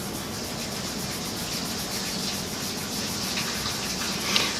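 Steady, continuous rubbing on paper as an ellipse shape is shaded into a drawing, giving an even, hissy scraping that stays constant at close range with no talk over it.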